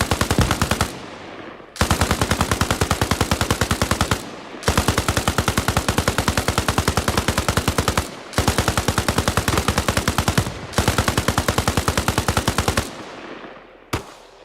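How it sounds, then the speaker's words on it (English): Long sustained bursts of automatic gunfire in the military shooter Arma Reforger, rapid machine-gun strings separated by brief pauses, loud and close, ending with a single shot. "At this rate, we're just shooting for fun."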